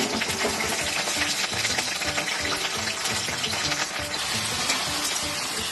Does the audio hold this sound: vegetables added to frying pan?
yes